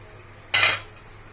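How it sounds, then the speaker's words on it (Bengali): A lid comes off a pot of boiling chicken ghugni with potatoes in a single short metallic clank, bright and close, against a quiet low hum before and after. "এখন আমি ঢাকা তুলে দিচ্ছি।"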